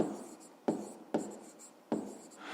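Pen strokes on paper while a fifth-grade maths solution is written out, three sharp scratchy bursts of writing with quiet pauses between, close and clear with no talk.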